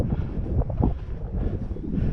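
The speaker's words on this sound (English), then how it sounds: "I was hoping the wind would die down by the time we got up here" Strong gusty wind blows across the microphone on a high country hike near White Top Mountain, a close, uneven rumbling buffeting that rises and falls throughout with no voice.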